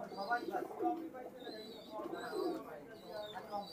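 Royal Teddy pigeons coo quietly in short, low bursts close by, partly under a voice talking over them.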